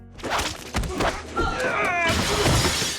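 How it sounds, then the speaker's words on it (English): A glass display case shatters in a violent film fight scene, a loud close crash with thuds and scattering glass, followed by bright crackling debris. "breaks one of the glass cases"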